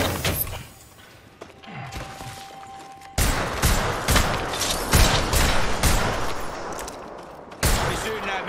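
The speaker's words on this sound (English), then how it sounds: "He's shooting at me." Loud gunfire from the Apex Legends battle royale comes in bursts of rapid shots, with heavy thumping impacts and sharp cracks repeating through the scene at close range.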